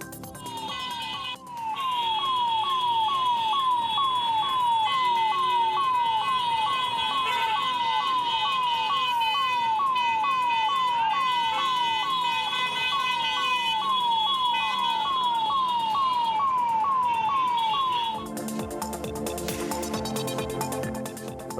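An ambulance stuck in heavy road traffic sounds its siren in a loud, rapid, repeating wail that holds steady for about sixteen seconds, then cuts off and leaves noisy traffic rumble.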